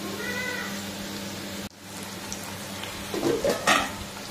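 Potatoes fry in a pan with a steady sizzle, and a cat meows a few times near the end.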